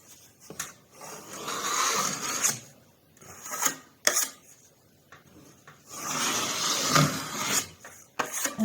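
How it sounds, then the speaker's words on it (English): A spatula scraping excess joint paste from an interior wall corner, rough close rasping strokes in irregular bursts separated by brief quiet gaps, with no speech. "take your spatula, take the excess off"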